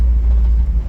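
A 1984 Chevy K5 Blazer with headers and an aftermarket exhaust cruises at about 35 to 40 mph, giving a brief, loud, deep steady rumble with no talking.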